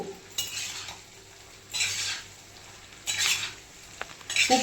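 Chopped garlic sautéing in oil for a garlic pickle, with soft steady frying hiss punctuated by three or four bursts of spoon scraping and stirring against the pan.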